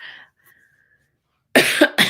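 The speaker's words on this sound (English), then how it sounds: "See, now I have to cough." A single short cough, followed by a brief pause and then a couple of spoken words close by.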